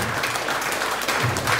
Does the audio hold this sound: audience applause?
yes